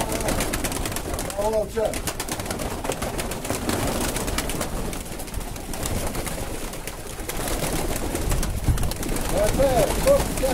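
A large flock of pigeons is released outdoors, with a constant rush of wings and bursts of cooing, while voices shout over the noise.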